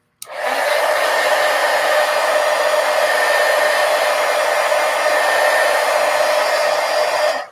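A hair dryer drying acrylic paint washes in a book: it switches on with a click and then blows a loud, steady, even hiss close by for about seven seconds before cutting off.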